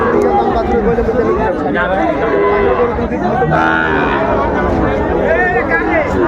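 Red Brahma cattle low intermittently at a crowded livestock market, the moos partly buried under loud close chatter and bargaining voices throughout.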